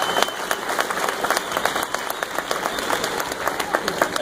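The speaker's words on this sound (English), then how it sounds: "I don't think you're going to bother anyone if you applaud them now" A crowd at a Clydesdale horse show in Abilene claps steadily throughout, a dense, even applause close around the listener with no pauses.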